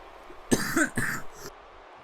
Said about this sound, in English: Apologize again for the pause, the cough